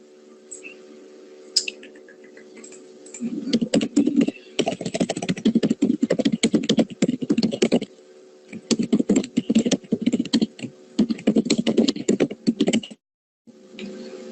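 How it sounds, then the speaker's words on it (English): Rapid computer keyboard typing in bursts of close, clicky keystrokes, pausing briefly between runs, with no talking. "Keep typing."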